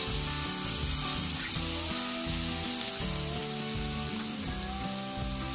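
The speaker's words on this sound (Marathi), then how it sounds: "आता त्या मसाल्याला तेल सुटेपर्यंत त्याला परतून घ्यायचं आहे।" Ground whole-spice masala frying in oil for chicken kheema, a continuous close sizzle with rubbing, scraping stirs and no speech over it.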